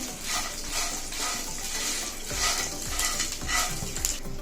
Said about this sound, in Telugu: ఇది కూడా మీడియం ఫ్లేమ్ మీద వేయించుకోండి